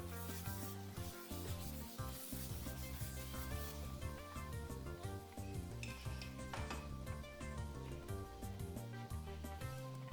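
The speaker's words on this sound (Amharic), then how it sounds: "በራሱ በዘይቱና በእንፋሎቱ ነው እያማሰልኩ ያለሁት።" Onions for Ethiopian doro wot stirred in oil in a pot, a steady close sizzle with repeated scraping strokes of a spoon against the pan running throughout.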